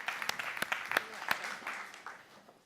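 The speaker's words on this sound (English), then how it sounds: "Jan, a big round of applause for him because he's the first one." Applause from an audience at a business expo company pitch session, scattered distinct claps over a soft patter that thins out toward the end, fairly quiet and distant-sounding, with a voice briefly audible.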